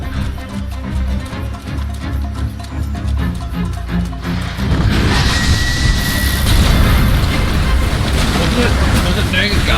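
Explosion and falling rocks in the video game Monster Hunter World, rumbling booms and crashing debris building to a dense, loud roar in the second half, with a voice talking over the first part.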